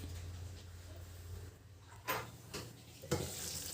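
Meal maker curry gravy cooking down in a pan, a soft low bubbling sizzle with a few sharp stirring scrapes and utensil knocks near the end, no talk.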